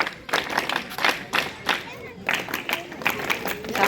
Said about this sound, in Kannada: ಜೋರು ಹೊಡಿಬೇಕು ಚಪ್ಪಾಳೆ.